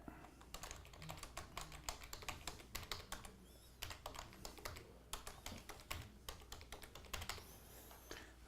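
Continuous quick typing on a computer keyboard, a dense run of close, light key clicks with brief gaps at an even pace and no voices over it.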